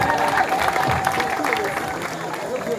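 Guests at a customary wedding break into applause, a broad wash of clapping and crowd noise that holds steady for nearly three seconds, mixed with background chatter.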